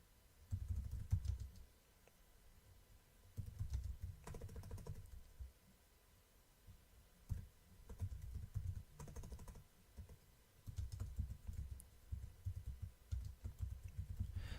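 Computer keyboard typing during a live stream, bursts of rapid clicking keystrokes separated by short pauses, close and fairly loud with a low thumping undertone and no talking.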